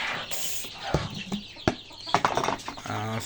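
Native deshi chickens cluck and squawk near at hand while being fed a mix of feed and broken rice, with short irregular calls and a brief mechanical clatter.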